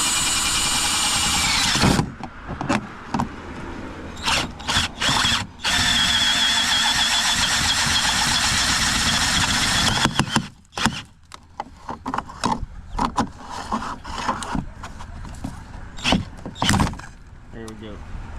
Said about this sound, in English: I'm just going to drill a 1-inch hole in the center of this for the through hole kit.